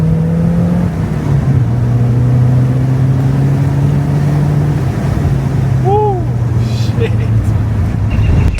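A 1980s Porsche 944 Turbo accelerates hard, its engine note rising and steady throughout under loud road and wind roar, heard from inside the car with a brief chirp near the end.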